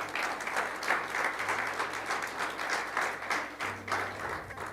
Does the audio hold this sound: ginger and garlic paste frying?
no